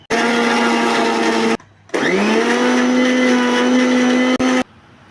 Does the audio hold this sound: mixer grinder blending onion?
yes